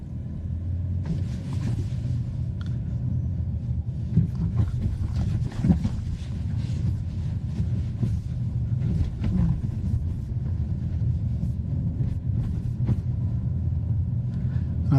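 A Suzuki Grand Vitara full hybrid SUV rolls over a rough, broken road in Bangladesh, with a steady low cabin rumble and irregular thumps and knocks as the body jolts over bumps.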